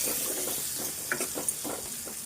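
Mustard seeds, cumin, onion, turmeric and fresh ginger-garlic paste fry in hot oil in a pan for a Telangana egg curry, giving a steady soft sizzle with occasional small pops and stirring scrapes.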